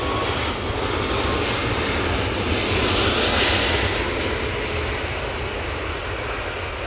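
Virgin airliner on approach to land at Manchester Airport, a loud steady jet engine roar that swells slightly as the aircraft passes close overhead, with no talking.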